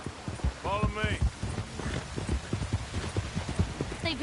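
Horse hooves clip-clop at a steady walking pace in the video game Red Dead Redemption 2. Rhythmic thuds continue throughout while voices talk over them.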